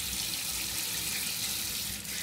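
Cold water runs steadily from a hotel bathroom sink tap, a close, continuous hiss and splash with no talking.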